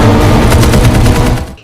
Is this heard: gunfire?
yes